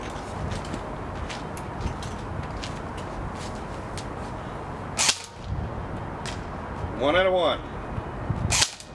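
Two sharp cracks from an airsoft gun with its stock barrel firing 0.32 gram BBs at a range, spaced a few seconds apart over steady background noise, with a voice counting between shots.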